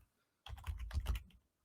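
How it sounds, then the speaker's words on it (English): A quick burst of typing on a computer keyboard, about a second of close, rapid key clicks after a short silence. "I'll type it in the chat here for you."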